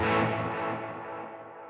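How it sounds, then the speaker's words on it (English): Distorted electric guitar through a delay feeding into reverb in series, one loud chord whose echoes smear and fade under a washy reverb tail. "You'll hear how the echoes have a lot of reverb on them."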